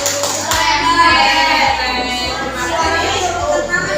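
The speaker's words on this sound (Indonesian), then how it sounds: "beri tepuk keren kepada kelompok Al-Qudus" A group claps for a team of students at the close of a class session, a dense continuous wash of hands throughout, with a low rhythmic hum beneath and some background voices.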